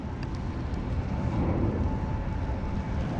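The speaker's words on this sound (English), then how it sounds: "Watch the plane go over." Aeroplane taking off from a nearby airport and flying overhead, a steady loud broadband roar that holds throughout, rising slightly in the middle, with no talk.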